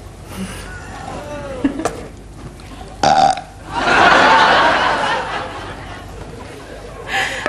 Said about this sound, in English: after you've actually drunk your tea, you would have to belch as well